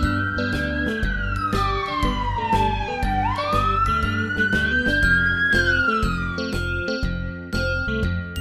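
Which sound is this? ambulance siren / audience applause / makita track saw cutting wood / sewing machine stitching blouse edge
ambulance siren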